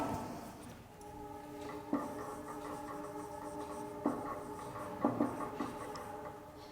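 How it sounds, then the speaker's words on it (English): A pen scratches across paper in soft, steady strokes, with a few sharper taps between them, heard close and alone against a faint background hum. "So write it down."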